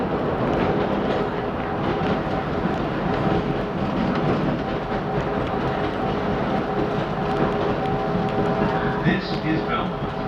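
Chicago elevated L Brown Line train bound for Kimball, a steady loud rumble of rail cars running on elevated track, with a faint squeal near the end and automated announcements underneath.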